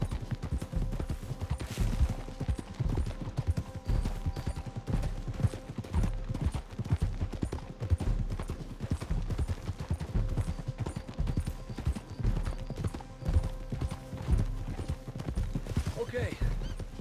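Horse hooves clop steadily through brush and bushes in Red Dead Redemption 2, a dense, continuous trotting rhythm with rustling, loud and close, with a voice talking over it.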